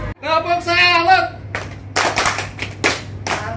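A classroom of students claps hands in loud, sharp bursts during an ice-breaking game, several quick claps following a short stretch of voices.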